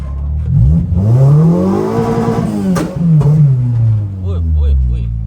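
A Suzuki Cultus with a swapped Honda K24 engine revs up and down with a rising and falling tone, loud and close, on a Lahore road at night, with a voice talking over it.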